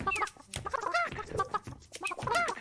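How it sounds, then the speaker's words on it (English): Chickens cluck in the video game Burly Men at Sea, with several busy, overlapping bursts of clucking repeating close by through the whole stretch, and no talking. "we've got some chickens that can cluck about the place"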